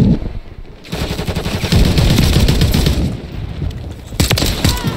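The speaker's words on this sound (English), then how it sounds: "I'm shooting at them" Rapid automatic gunfire from a video game's hardpoint match, loud, close bursts of machine-gun fire with short pauses between volleys.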